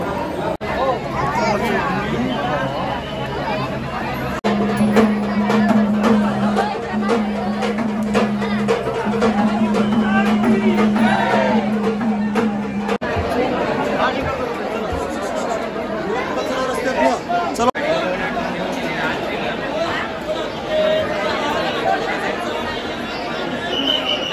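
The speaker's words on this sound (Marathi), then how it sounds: "तर खूप गर्दी आहे." Large crowd queuing for darshan at Tuljabhavani temple in Tuljapur, dense babble of many voices close around, steady and loud throughout with nearer voices rising above the hubbub.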